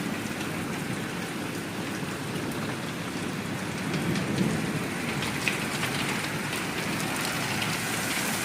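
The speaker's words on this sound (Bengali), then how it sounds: "অনেকদিন পর আজ বৃষ্টি হচ্ছে, ভীষণ ভালো লাগছে।" Steady rain pours down in a continuous hiss, pattering on surfaces without letup; no one speaks.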